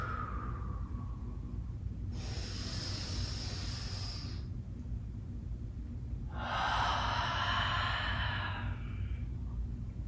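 Two slow, deep yoga breaths in a vinyasa flow, each a long airy hiss lasting about two seconds, close to the mic over a steady low background hum.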